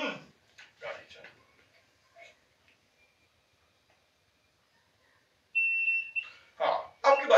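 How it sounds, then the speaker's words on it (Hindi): Anti-sleep, anti-dozing alarm device for drivers, giving a single short high electronic beep near the end between bursts of someone talking, with quiet gaps in between. "हाँ, अब की बार अलार्म सही आया है"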